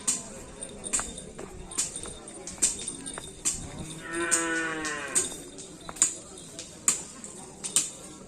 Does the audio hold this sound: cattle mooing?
yes